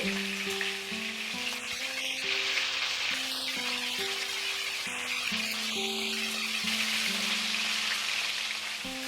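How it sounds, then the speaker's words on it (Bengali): Chicken pieces frying in oil over a medium-high flame, a steady close sizzle and crackle throughout, with background music playing underneath. "এবারে ফ্লেমটাকে মিডিয়াম টু হাই রেখে আমরা চিকেনগুলোকে কিন্তু খুব ভালো করে ফ্রাই করে নেব।"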